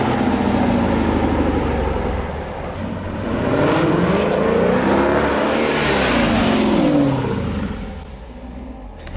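2020 Dodge Durango R/T fitted with a Borla S-Type cat-back exhaust revving hard, a loud, deep roar that rises and falls across several sustained pulls before easing off near the end.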